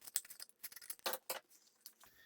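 Scissors snipping through cardboard while a phone holder is cut out, a run of short crisp cuts in quick bursts, fairly close and moderately quiet, with no voice over them.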